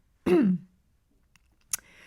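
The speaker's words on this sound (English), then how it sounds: "I clear my throat." One short, gruff throat clearing, close and distinct, followed by quiet and a faint click.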